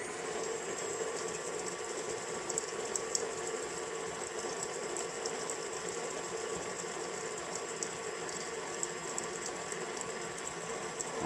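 An electric stand mixer creams butter and brown sugar with a steady, fairly quiet motor whir and light ratcheting beater clatter that runs unbroken throughout, with no talking.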